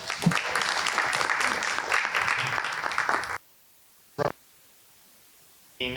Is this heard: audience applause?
yes